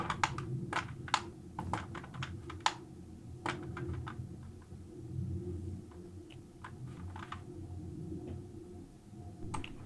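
Computer keyboard key presses, sharp and close, sounding as scattered single taps and short runs over a soft low room rumble, with no talking.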